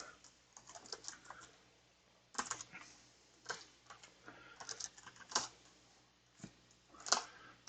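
A command being typed on a computer keyboard, rapid close key clicks in irregular bursts with short pauses, fairly quiet and with no talking.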